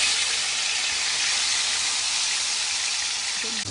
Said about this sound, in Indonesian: Setelah minyak panas, masukkan bumbu.